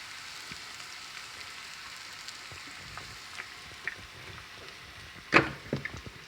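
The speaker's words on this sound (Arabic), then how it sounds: "دابا درت البصله ديالي في الطاجين كما كتشوفوا، ها هي مع زيت الزيتون" Onion sizzling in olive oil inside a tajine, a quiet steady frying hiss with small crackles and a few louder pops and clinks near the end, close and faint with no talking.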